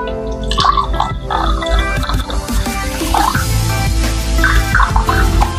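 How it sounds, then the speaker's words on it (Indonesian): Water poured into a boiled ginger and coffee drink, close wet dripping and sloshing liquid sounds running steadily throughout. "Kita masukin airnya aja teman-teman."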